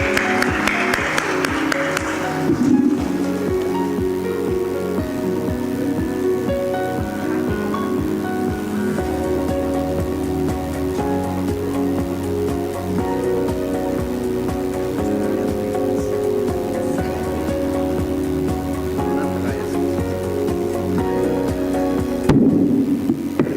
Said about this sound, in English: Request all of you to please give him a huge round of applause